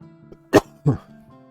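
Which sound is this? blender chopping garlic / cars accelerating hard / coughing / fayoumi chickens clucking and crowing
coughing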